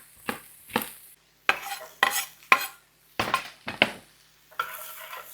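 A spoon stirs and scrapes food around in a pot while cooking a tamale pie casserole filling, in a series of distinct close clinks and scrapes with short pauses between strokes.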